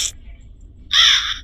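A single harsh crow caw rings out in the horror video game Granny, loud and close in an otherwise quiet moment.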